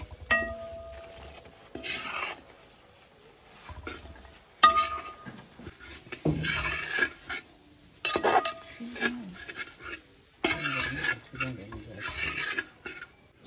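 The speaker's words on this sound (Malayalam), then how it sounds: "ഇനിയിപ്പം നമ്മുടെ ചതച്ച് വെച്ചേക്കുന്ന ഇറച്ചി നമ്മൾ ഇതിനകത്തോട്ട് ഇട്ട് ഇളക്കുകയാണ്." Crushed meat being stirred into masala in a pan for a home-style pounded meat dish, producing repeated scraping and rasping strokes in bursts with short pauses between, fairly close and moderately loud.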